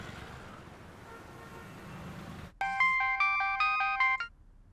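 A mobile phone ringtone starts abruptly in a Hindi TV serial scene, playing a loud, bright repeating electronic melody in short phrases over quiet room background, with no talk.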